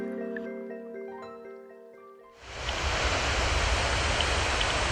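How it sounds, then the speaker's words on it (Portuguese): A waterfall on the São Francisco river roars as a broad, loud, continuous rush of water that bursts in after a few seconds of quiet tonal background, then holds steady. "começamos a ouvir o barulho da cachoeira"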